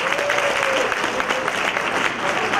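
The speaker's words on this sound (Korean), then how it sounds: "큰 박수 부탁드리겠습니다." Steady, dense applause from an audience at a school class reunion talent show in Busan, filling the whole stretch with even clapping and a faint crowd murmur beneath.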